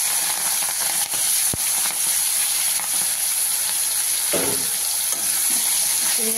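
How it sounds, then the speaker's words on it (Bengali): Peeled shrimp frying in hot oil in a wok give a loud, steady sizzle and hiss throughout, with a few brief clatters of a utensil against the pan. "এই চিংড়ি মাছটাকে ছাড়িয়ে নিয়ে এই যে আমি চিংড়ি মাছটা ভাজবো।"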